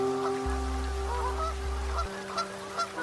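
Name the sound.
geese honking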